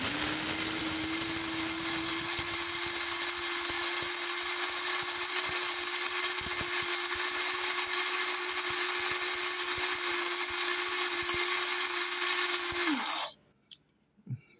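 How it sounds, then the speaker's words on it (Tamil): A Nima mini grinder mixer grinds rice with a steady, loud motor whine that holds for about thirteen seconds before cutting off abruptly, followed by a couple of faint knocks. "இப்போ பாருங்கள் எப்படி அரையுது மட்டும் பாருங்கள்."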